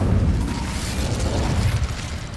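Incendio fire spell cast in Hogwarts Legacy, a short, loud, whooshing burst of flame that roars for about two seconds.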